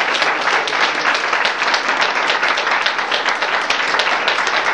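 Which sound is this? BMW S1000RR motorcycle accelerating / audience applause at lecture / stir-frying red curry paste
audience applause at lecture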